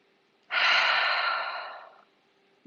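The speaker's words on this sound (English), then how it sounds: "let's just take a couple of big deep breaths. So inhaling right the way down into the belly and exhaling, really sighing the air out." A single deep yoga breath, drawn in and then sighed out, close and airy; it swells quickly, fades away gradually over roughly a second and a half, then silence follows.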